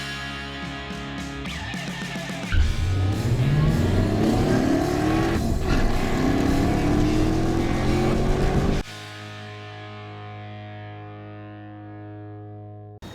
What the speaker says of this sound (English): We'll kind of see how this Jeep does on the drive.